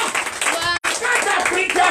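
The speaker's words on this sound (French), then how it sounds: "Donnez l'acclamation à sa parole." A church congregation in Comè, Benin, claps in acclamation, a close, loud, busy clapping mixed with voices, broken by one brief silent gap before resuming.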